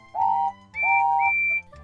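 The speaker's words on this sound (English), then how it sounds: "from far away an engine whistled" A steam engine whistle blows two sustained blasts, the second longer and joined by a higher tone, clear against a low rumble.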